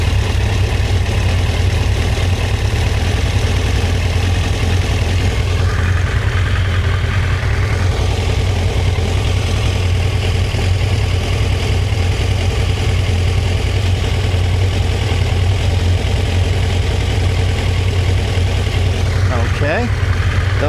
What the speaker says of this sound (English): We're going to have to adjust our idle speed a little.